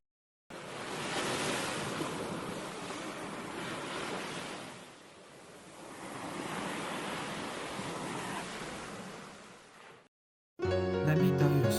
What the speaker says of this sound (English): What do you think of when you hear the waves?